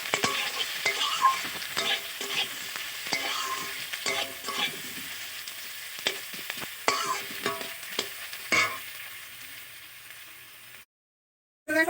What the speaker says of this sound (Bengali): পেঁয়াজটা দিয়ে পেঁয়াজটাও ওর সঙ্গে ভালো করে ভেজে নেবো।